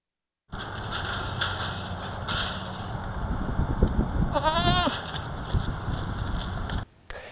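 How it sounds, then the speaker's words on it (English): Goats grazing to clear weeds, brush and blackberry bushes for a school district, with one wavering bleat rising clearly mid-clip over steady outdoor background noise. "These goats are helping the Phoenix Town School District clear weeds, brush, and blackberry bushes"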